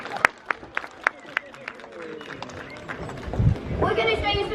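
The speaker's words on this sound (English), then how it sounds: "You should give yourself a clap." Sharp, evenly spaced claps ring out at a sea lion show at Flamingo Land, then fade into a louder crowd murmur with voices talking.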